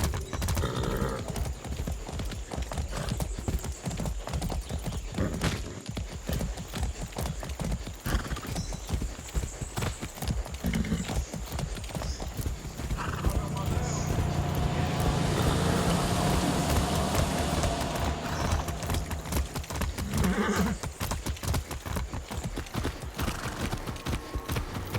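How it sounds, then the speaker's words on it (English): A horse in the game Far Cry 6 trots with a steady, rapid clip-clop of hooves on a hard surface, close and continuous, with a brief snort or whinny partway through and faint ambient game noise behind. "That's a good horse."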